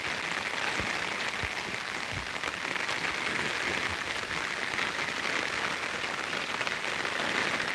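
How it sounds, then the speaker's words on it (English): Steady, dense hiss of rain falling on a surface, loud and unbroken throughout with no voices. "Look how we plan and the rain come wash it out."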